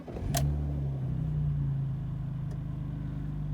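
A BMW E46 330i engine cranks with a sharp click and catches, then settles into a steady, close, even idle hum that runs on unbroken.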